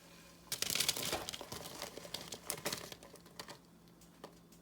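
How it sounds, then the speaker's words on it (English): Parchment paper crinkles and rustles as it is handled in a kitchen for cooling pound cake, a close burst of crackling that fades into sparse softer rustles. "I'm gonna let these cool on some parchment paper"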